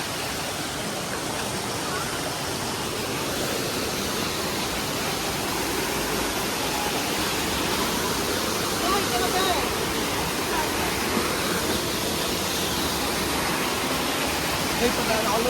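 Daranak Falls, a loud, constant roar of cascading water filling the whole clip without pause, with voices faintly mixed in.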